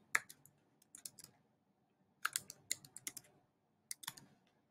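A coupon name is typed on a computer keyboard while setting up a WooCommerce coupon code. Close, crisp key clicks come in quick bursts separated by brief pauses, with no talking.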